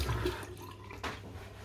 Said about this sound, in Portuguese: Então só vou molhar o rosto rapidinho.